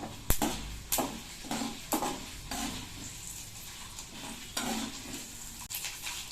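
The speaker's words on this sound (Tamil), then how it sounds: "பருப்புலாம் வறுக்கும்போது ஸ்டவ்வை வந்து சிம்மில் வச்சுட்டு பண்ணுங்கள்" Dal roasting in a pan over a low flame, with a spatula repeatedly scraping and stirring in rhythmic strokes over a light sizzle, close and clear, with no talking.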